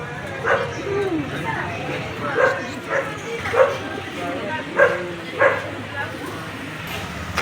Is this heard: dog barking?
yes